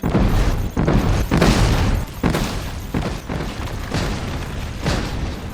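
A LEGO wall being smashed apart in the video game LEGO Fortnite, a loud run of crunching, booming bursts and clattering breaks arriving in quick uneven waves, with no talking.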